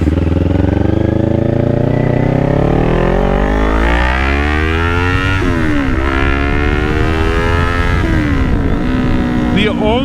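A Kawasaki Ninja 400 motorcycle revs and climbs through the gears on a night ride, rising engine pitch breaking at each shift, with wind rush and a rider's voice mixed in.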